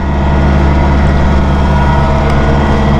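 Steady, loud engine drone of a Massey Ferguson 1840M or 2850M compact tractor with an eHST transmission and deluxe cab, heard close and continuous while driving with no talk.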